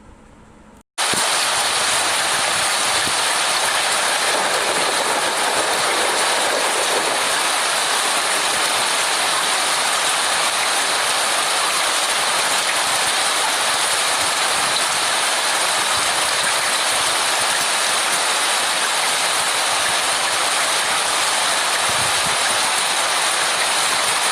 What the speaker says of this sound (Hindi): उसमें रेनफॉल का वॉइस भी होगा